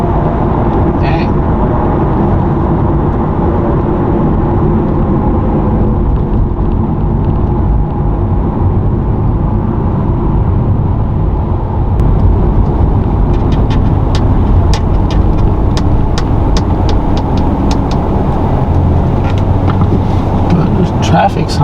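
A car drives through stop-and-go traffic, heard from inside as a steady low engine and road rumble with light wind noise, while someone talks over it throughout.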